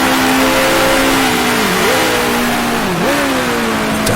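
A 1966 Formula One car in the racing game Grand Prix Legends drones loudly and steadily at close range, its engine pitch dropping sharply twice as it downshifts.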